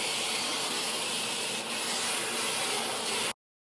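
A spray bottle of saffron liquid gives a steady, close hiss over a cooking pot, continuous for about three seconds before cutting off abruptly.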